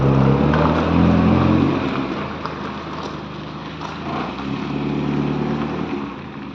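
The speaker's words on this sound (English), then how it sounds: "we've now started the car and we're going for the test drive to see if we've fitted everything correctly" A Morris Minor car engine running steadily on a test drive after its universal joints were replaced, a loud continuous droning hum that eases slightly partway through, with no talking.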